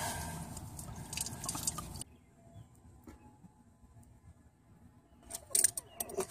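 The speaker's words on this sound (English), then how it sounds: "I move the clamp out of the way." A metal hose clamp on the cooling system of a Toyota Camry 2.2L 5S-FE four-cylinder engine clinks and scrapes close up as it is shifted, in light irregular metallic rattles around a quiet middle stretch.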